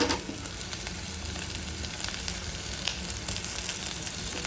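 Tomatoes frying with roasted onions in a pan, a steady soft sizzle and crackle running evenly throughout, fairly quiet and close, with no talking.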